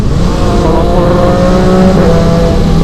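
A supersport motorcycle engine revs loud and close, a sustained droning roar with a steady pitch that stays full and even throughout.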